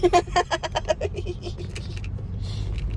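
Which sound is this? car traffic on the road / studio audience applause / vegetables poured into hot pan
car traffic on the road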